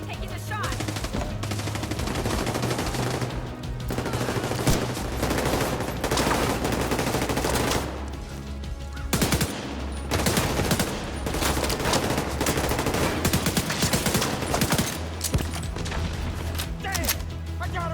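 Sustained automatic gunfire from The Division 2, loud bursts and rapid volleys continuing almost without pause, layered over game music and occasional booms.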